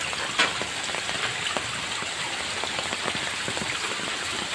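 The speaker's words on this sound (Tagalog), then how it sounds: "Kasi sobrang lakas ng ulan kanina guys. Ngayon medyo humina na." Steady rain falls outdoors, with dense, even patter across the whole stretch and no voices.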